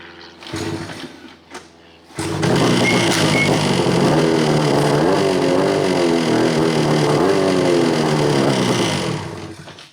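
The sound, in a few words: pull-started engine starting and revving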